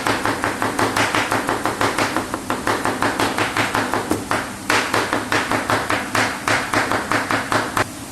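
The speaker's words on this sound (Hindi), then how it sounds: "इसको मैं ऐसे ऐसे कटिंग कर लूँगा। ठीक है, इसको ये शेप में कटिंग कर लेना।" A knife chops brinjal into pieces on a cutting board for baingan bharta, a quick run of crisp, rhythmic taps close by that continues for about eight seconds, with one short pause midway and no voices.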